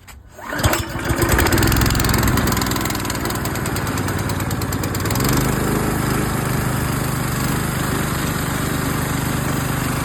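A Fortress 9 gallon gas-powered air compressor is pulled to start, then its small engine catches and runs at a loud, steady idle, with the pitch settling partway through.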